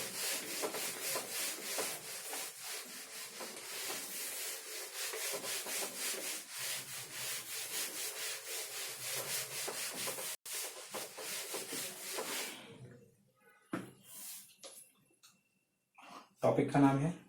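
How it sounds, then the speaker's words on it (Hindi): A board eraser rubbing out writing in a classroom lecture, a long run of rapid scrubbing strokes, close and steady for about twelve seconds before stopping, followed by brief faint sounds and a voice at the end. "ड्रिफ्ट वेलोसिटी की डेफिनेशन को तो अपन रब कर देते हैं"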